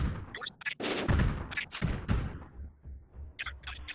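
Rapid gunfire from Arcos and militia units in the strategy game Iron Grip: Marauders, a string of sharp cracks and thumps in quick succession, with a few more scattered shots near the end.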